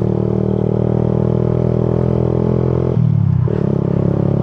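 A Yamaha Jupiter MX fitted with a DBS racing exhaust idles with a deep, steady burble, then dips briefly in pitch before settling back. The exhaust is loud and close, with no voices.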